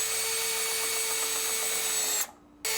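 Power drill driving a 1/4 inch lag screw with a washer into a board, a steady close whir lasting over two seconds, a brief stop, then the motor picks up again.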